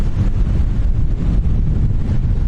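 Strong wind buffets the microphone on a beach near Lanzarote Airport in the Canary Islands, a steady, loud low roar with gusty rumble throughout and no voices.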